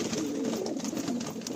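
Pet pigeons in a loft coo continuously, a low, throaty murmur layered from several birds, steady and moderately close with no talking.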